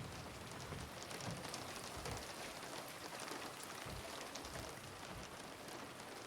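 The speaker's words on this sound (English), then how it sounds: "The sound of the rain on the glass is so nice." Rain pattering on glass in the video game Silent Hill 2 Remake, a soft, steady, dense wash of drops that continues evenly throughout, with no voices over it.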